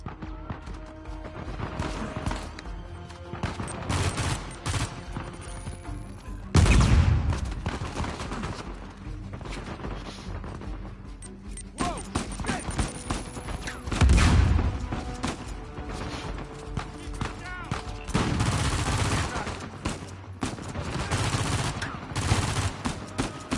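Gunfire in Uncharted 4: dense bursts of automatic weapon fire and single shots crackle continuously, with heavy booming impacts near the seven- and fourteen-second marks, loud and close, alone without voices.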